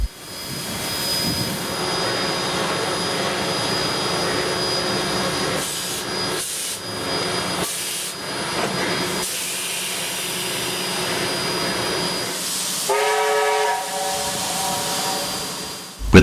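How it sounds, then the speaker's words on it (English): The two original Newcastle Flyer steam locomotives pull out of Sydney Central Station, a loud, sustained rush of steam and rumbling machinery with a brief whistle-like tone near the end. "the two original locomotives of the Newcastle Flyer from their respective classes are seen departing Sydney Central Station, heading their way to Newcastle"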